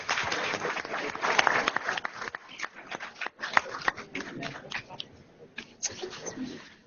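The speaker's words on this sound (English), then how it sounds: "let's give them another round of applause." Audience applause at a board meeting, a steady wash of clapping that starts fuller and thins out toward the end into scattered claps, with some murmuring and movement in the room.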